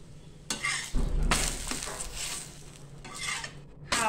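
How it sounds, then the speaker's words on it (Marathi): Methi paratha roasting in oil on a hot griddle, with a soft steady sizzle broken by bursts of scraping and stirring from a spatula against the pan. "दुसऱ्या बाजूने असा तेल लावून आपल्याला भाजायचा आहे खरपूस छान पराठा।"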